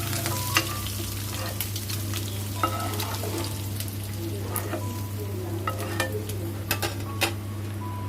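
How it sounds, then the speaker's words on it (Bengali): Fish frying in oil in a pan, a continuous close sizzle broken by frequent scraping and clinking strokes of a utensil stirring against the metal. "মাছগুলোকে ভালো করে নাড়াচাড়া দিয়ে ভেজে নেব"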